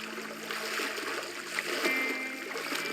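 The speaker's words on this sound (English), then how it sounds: "We're swimming into like it's drinking water." Water sloshes and splashes while swimming in the game Teardown, a continuous soft trickling and splattering with faint engine-like hum underneath, moderately loud and close.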